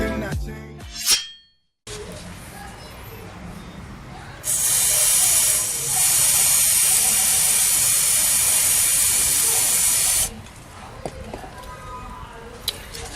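WD-40 cleaner and lubricant sprays onto a motorcycle chain in one sustained, loud, close hiss lasting several seconds, framed by quieter clanks and handling noises before and after.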